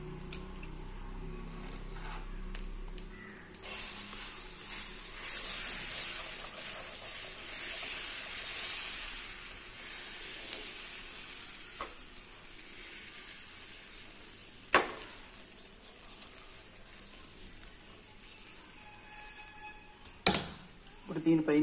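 Dosa batter spread on a hot pan hisses in a bright, steady sizzle that swells after a few seconds and lingers, with occasional clicks and scrapes; a voice speaks near the start.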